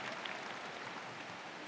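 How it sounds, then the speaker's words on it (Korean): Audience applause at a film festival stage greeting in Busan, a dense steady wash of clapping filling the whole moment with no voices over it. "네, 큰 박수 부탁드립니다."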